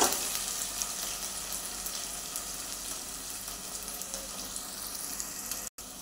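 Chopped onions fry with whole spices in a pan, giving a continuous, even sizzling hiss at moderate volume that cuts out abruptly for an instant near the end.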